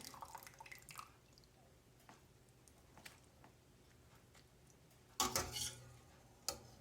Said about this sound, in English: So I'm just going to strain all of this out into my basket here.